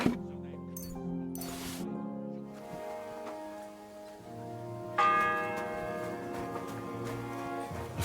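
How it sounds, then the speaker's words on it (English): A church bell tolls in the medieval game Kingdom Come: Deliverance II, ringing with long, ringing decays; one strike fades out, then another loud strike rings at the midpoint and lingers. "The fourth bell."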